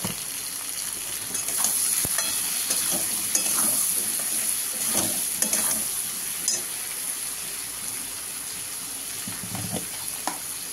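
Spices with salt and turmeric sauté in a pan, a steady hissing sizzle with occasional stirring scrapes and light clatters, close and moderate in level, no voices.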